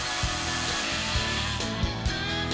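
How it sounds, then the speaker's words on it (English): A power drill bores screw holes in a wall. It gives a loud, steady whirring drone with a few small thumps as it cuts, and it runs without pause throughout. "With that done, drill the screw holes."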